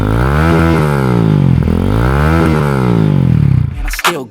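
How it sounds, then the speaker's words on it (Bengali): A GPX Demon motorcycle with a full Akrapovic R1 exhaust and the dB killer removed revs loudly up close, rising and falling three times in smooth sweeps before the engine cuts off with a brief clatter. "এখন আমি আউটার ডিবি কিলারটা খোলার পর আপনাদেরকে এই বাইকের সাউন্ডটা শোনাচ্ছি"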